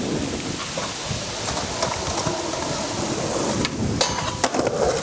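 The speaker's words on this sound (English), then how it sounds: "The rain's coming down." Heavy rain pours down in a steady, dense hiss across the whole stretch, with a few louder sharp spatters and knocks near the end.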